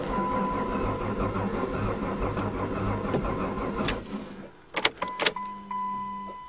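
A 2010 caravan engine cranks over and over on a cold start without catching, a rhythmic churning that stops abruptly, followed by a few sharp clicks and clunks.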